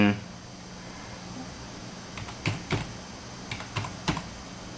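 A password is typed on a computer keyboard, with several quiet, close key clicks coming in short uneven bursts over a faint background hum.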